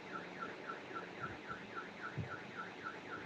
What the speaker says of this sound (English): I wish they could use this kind of alarms